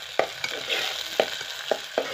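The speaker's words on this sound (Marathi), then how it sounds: "नंतर टोमॅटो. नंतर कढीपत्ता इथं ॲड करायचा आहे." Tomato and curry leaves fry in a pan at home, a steady sizzle broken by several sharp stirring scrapes, close and moderately loud, with no talk.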